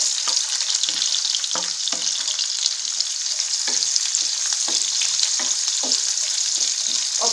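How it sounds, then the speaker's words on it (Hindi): Onions fry in a pan over a medium flame for a restaurant-style mixed vegetable sabzi, giving a steady, loud sizzle with repeated soft scrapes of stirring throughout. "और प्याज का कलर चेंज होने तक इसको हम फ्राई कर लेंगे।"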